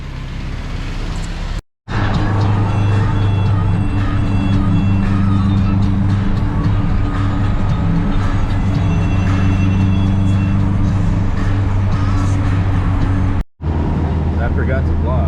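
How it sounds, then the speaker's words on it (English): Steady low engine rumble and road noise inside a car sitting in slow traffic near Anaheim, continuous and loud with brief dropouts, with speech-like murmur present. "we're sitting in traffic"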